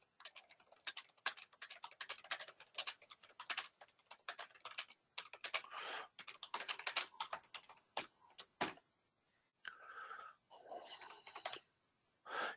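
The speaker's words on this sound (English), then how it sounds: "and here we just type out the question." Rapid, irregular clicking of keys on a computer keyboard, close and crisp, in bursts with brief pauses.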